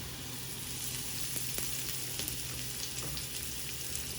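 Scallions frying in butter in a sauté pan for an omelette give a steady, soft, close sizzle with light crackles throughout and no talking.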